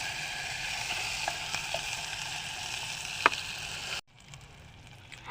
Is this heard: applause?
no